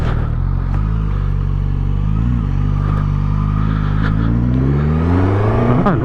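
A Suzuki GSX-S1000GT motorcycle pulls away loudly up close, its engine note climbing through rising revs with a brief dip for a gear change, under steady wind rush.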